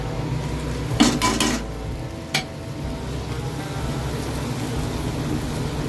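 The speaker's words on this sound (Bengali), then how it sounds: "এরকমভাবে দিয়ে একটুখানি নাড়িয়ে নেবো। নাড়িয়ে এবার লঙ্কাগুলো দিয়ে দেবো, এই যে কেটে রাখা লঙ্কা" Chopped chillies stirred in a cooking pan on a low gas flame, with a few sharp metal clanks of the spoon against the pan over a steady soft sizzle and background hum.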